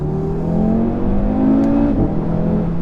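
A 2017 Audi RS3 Saloon engine revs up under acceleration, a steady rising drone heard from inside the cabin, with a brief shift in pitch near the end.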